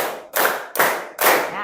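A classroom group of students clapping in unison to a counted clap pattern: loud, close, evenly spaced group claps, each ringing briefly before the next.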